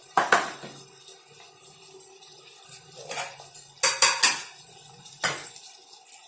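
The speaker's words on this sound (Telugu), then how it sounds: "అది ఉల్లిపాయలు వేగుతున్నాయి" Onions frying in a pan while being stirred for methi chicken, with intermittent metallic clinks and scrapes of a utensil against the pan over a low background sizzle, in bursts separated by quieter gaps.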